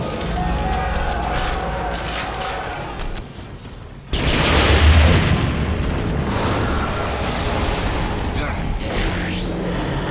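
Heavy weapons fire and explosions in Warhammer 40,000: Dark Crusade battle in the Rhean Jungle, with a loud boom midway followed by rolling blasts and mechanical clatter, while a voice speaks over the combat.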